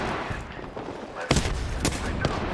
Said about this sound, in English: One is firing at us